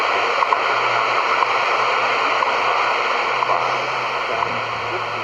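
Shortwave receiver on a random wire antenna tuned to 10 kHz WWV from Fort Collins gives a dense, steady hiss of static, with a faint time-station voice barely surfacing beneath the noise.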